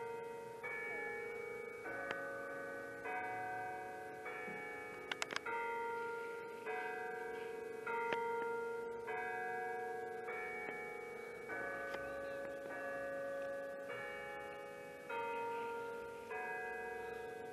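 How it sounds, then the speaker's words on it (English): Town square clock bells ring in a steady, overlapping peal, resonant tones repeating with lingering hum between strikes; a few faint clicks, no talking. "And there goes the bells."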